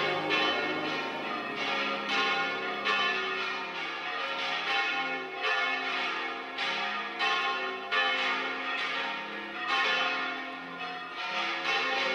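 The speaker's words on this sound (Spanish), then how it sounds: "vamos a tener la oportunidad única de asistir a la bendición de una nueva campana de la catedral" A newly blessed bell at Burgos Cathedral rings repeatedly in a steady rhythm, each rich metallic strike ringing on and overlapping the next, loud and sustained with no voices.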